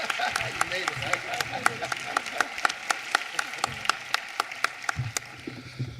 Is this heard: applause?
yes